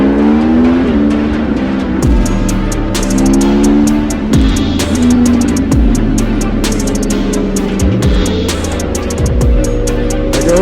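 Several superbikes, among them a Ducati Superleggera V4, BMW M1000RR, Aprilia RSV4 and Yamaha R1M, scream around a racetrack together, engines wailing loud and close with rising and falling pitch as gears shift and bikes sweep past.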